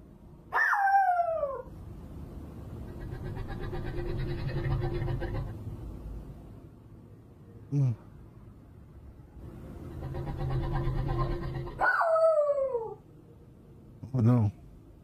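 A puppy barks at night indoors, picked up by a static camera: several sharp, yelping barks arrive in separated bursts over a quiet, humming background.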